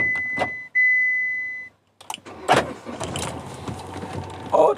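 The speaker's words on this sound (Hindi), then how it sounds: "अब अपनी गाड़ी को शुरू करता हूँ" A car starting up and pulling away, with a short electronic beep and a steady tone first, then a brief gap before engine and movement noise rise with clunks and rattles close by.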